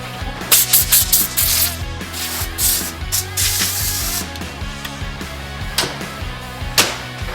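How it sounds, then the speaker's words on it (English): Hand sanding of corrosion spots on the body of a Ferrari 308 GTS under restoration, heard as close, loud, repeated abrasive rubbing strokes in uneven bursts with short pauses. "I've sanded it down and sanded it, and it just doesn't seem to want to go away."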